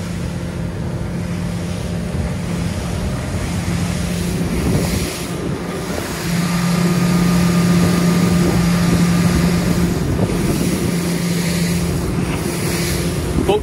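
A 2020 Galeon Galia 700 motorboat with a Mercury 350HP outboard cruises at 3,500 RPM, a steady engine hum under strong wind and water rush that swells slightly partway through.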